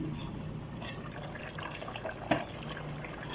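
Water poured into a cooking pot holding potatoes and chicken, a steady soft splashing and trickling wash throughout, moderately close, with one small clink partway through.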